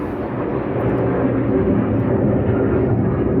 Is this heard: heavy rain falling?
no